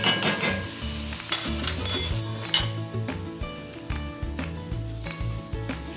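Minced garlic is added to a pan of sautéing ingredients for enchilada soup, bringing a sharp burst of sizzling that settles into a steady fry, with close clinks and scrapes of a spoon against the pan.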